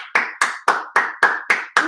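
Hands clap steadily in a family clapping game, seven sharp claps about a quarter second apart, close and loud with nothing else heard.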